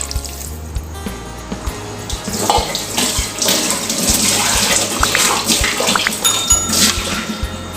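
Measured water poured from a vessel into a cooking pot of rice with spices, a steady splashing pour running throughout, close and fairly loud, with a few light clinks of metal.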